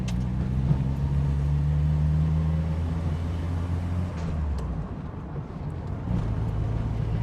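A Citroen LNA, a 1980s French budget car, drives along with a low engine drone and road rumble, steady and close, with a slight dip and shift in tone partway through, no talking.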